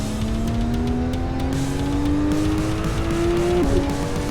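A race car in the driving game Assetto Corsa drones continuously under acceleration, engine pitch climbing steadily before a brief shift dip, loud and close with faint tire noise.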